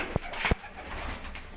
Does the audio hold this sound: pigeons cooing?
yes